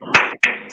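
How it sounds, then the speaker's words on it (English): Two short bursts of hand clapping, brief and close, with a pause between them. "A round of applause for that, please."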